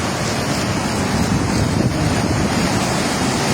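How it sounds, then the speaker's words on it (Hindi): Floodwater of the Ravi river surges over and against a bridge near the old Sidhnai headworks, a loud, continuous roaring rush with wind buffeting the microphone and no talking. "पुल के ऊपर से भी पानी जा रहा है"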